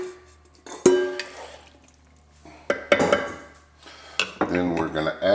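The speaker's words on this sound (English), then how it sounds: "Going to give that a stir." A spoon clatters against a pan while gravy of beef broth, brown gravy mix, onions and mushrooms is stirred, with scraping and clinks in several bursts between quieter pauses, close and fairly loud.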